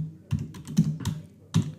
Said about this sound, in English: here I'm typing pabbly.com.